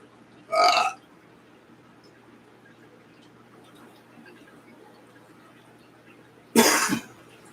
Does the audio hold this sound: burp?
yes